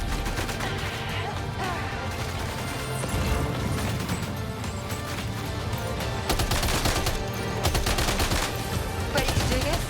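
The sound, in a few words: gunfire in video game Death Stranding 2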